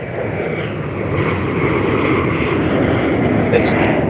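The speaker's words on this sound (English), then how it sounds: "There's an airplane, who cares?" A propeller airplane flying overhead, a steady broad engine drone that swells slightly and holds loud and close for the whole stretch, with no talk over it.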